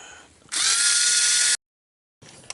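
A power drill or driver whirs in one sustained burst of about a second while tightening a part on a 1/10 HobbyKing Desert Fox RC truck's front suspension, close and loud, then silence and a brief second touch.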